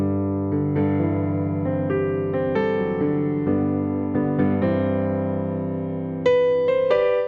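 Solo piano plays an interlude from a song: sustained chords with a walking bass part, then a brighter high chord near the end, played close and clear.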